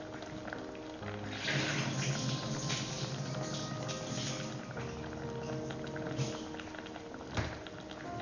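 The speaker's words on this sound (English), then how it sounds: "let me take out all the water in the rice." Water drains and trickles from cooked rice for chicken biryani in an Instant Pot, a steady liquid pouring and splashing with bubbling patter throughout, close and moderately loud.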